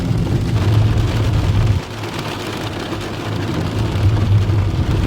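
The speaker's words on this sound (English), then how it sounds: "this rain is terrible" Heavy rain pounding on a car at a Florida gas stop, a dense steady roar with low rumble that briefly dips before swelling back up, continuous and close, with no talk.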